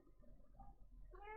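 A cat gives a short, quiet meow near the end, rising clearly after a stretch of faint indoor murmur.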